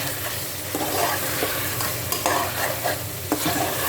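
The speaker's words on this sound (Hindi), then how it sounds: "चिकन को भी अच्छी तरह इसके अंदर भून लीजिए ताकि चिकन उसके अंदर उसका मसाला मैरिनेट हो जाए" Chicken pieces frying and being stirred in spice masala in a pan, a steady loud sizzle with repeated scraping stir strokes, no voices.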